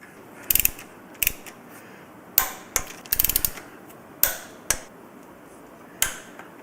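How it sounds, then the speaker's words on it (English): Torque wrench tightening bolts on a Trask Assault air cleaner install at the throttle body, with a series of sharp, close mechanical clicks, some single and some in quick clusters, separated by short pauses and no talking. "Once your torque wrench clicks, that's at 120 inch-pounds."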